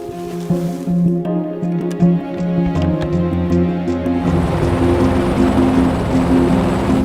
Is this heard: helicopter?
yes